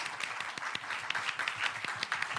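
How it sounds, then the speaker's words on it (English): An audience at a regional conference on public administration claps for a panel of speakers, a faint, steady patter of many hands with a few sharper claps standing out, heard from some distance. "Can I have a round of applause for these ladies and gents here?"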